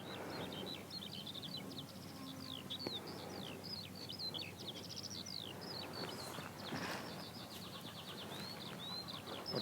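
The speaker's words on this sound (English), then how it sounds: "we're up on skylark territory here because we're up higher and it's open" Skylarks singing over open high ground, a continuous stream of thin, rapid, warbling high notes carried at moderate distance above a soft outdoor hush.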